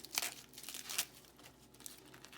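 A sharp knife slices through a handful of collard greens held in the hand, making crisp crunching, crinkling cuts in a few quick strokes, close and fairly quiet, with no talking.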